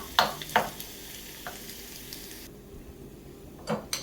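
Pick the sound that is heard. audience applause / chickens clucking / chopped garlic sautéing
chopped garlic sautéing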